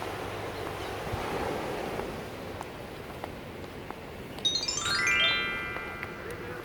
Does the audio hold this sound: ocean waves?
yes